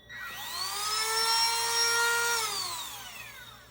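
A Milwaukee 12-volt cordless high-speed rotary tool, a Dremel-style tool in a ship model workshop, spins up to a high whine, holds it for about two seconds, then winds down, close and clear with no talk.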